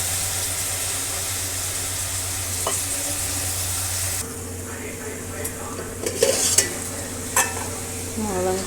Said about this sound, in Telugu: ములంకాయలు వేసుకుంటున్నాను.